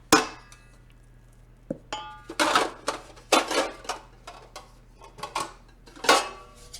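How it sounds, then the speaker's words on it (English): Cooking pans clatter and clang in a home kitchen as someone rummages through them, making a run of irregular metallic knocks and rattles, some loud and some faint, with quiet gaps between them. "I have a few different pans here"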